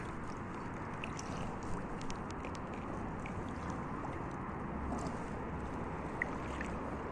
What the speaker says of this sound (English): Paddling with one hand is actually possible.